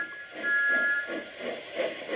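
Thomas the steam engine huffs away, a soft, rhythmic chuffing of steam puffs with a steady hiss and a brief thin whistle tone, faint and unaccompanied by voices.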